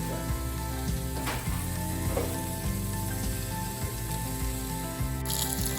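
Sausage for jambalaya cooks over medium heat in a pot, giving a steady close sizzle with a few soft stirring scrapes and no talking.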